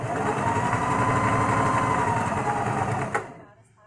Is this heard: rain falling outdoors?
no